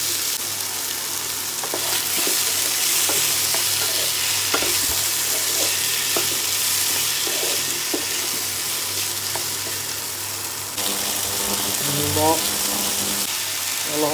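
Potatoes frying in a pan for a village-style fish curry, a loud continuous sizzle with scraping and stirring clatter throughout, and some water sounds near the end.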